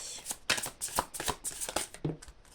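Oracle cards are shuffled and laid out in a quick run of soft, crisp riffling flicks and light slaps, close and fairly quiet, ending with a card placed down.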